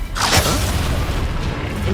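A fire spell cast in Hogwarts Legacy, a single loud whooshing, booming burst early on that settles into a rough, sustained roar with no one speaking.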